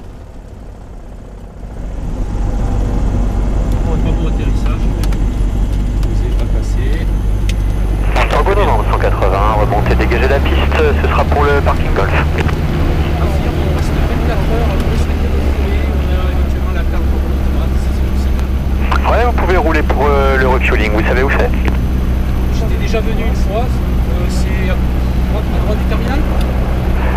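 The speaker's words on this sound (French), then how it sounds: "Oh, très beau atterrissage." Light aircraft landing on a flight from Aurillac to La Rochelle: a loud, steady engine drone heard from inside the cabin, rising in level early on, with people talking over it.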